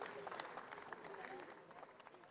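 Crowd at the launch of the 25th Ghana Music Awards applauding the president of Musica as he comes on stage, quiet, distant-sounding clapping with scattered sharp claps and some voices mixed in.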